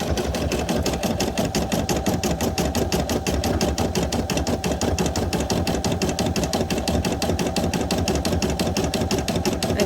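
A Brother PE800 embroidery machine stitches steadily after a broken needle was replaced, its rapid, even mechanical chatter running loud and unbroken throughout, with no one talking.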